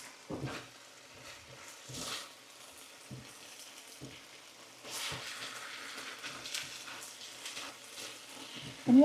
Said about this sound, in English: can y'all hear that sizzling good? Listen. It's really frying.